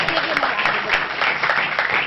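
Sustained applause from a conference audience at the 15th annual Herzliya Conference on innovation and the Internet of Things, dense steady clapping filling the hall, loud and continuous, with voices mixed in.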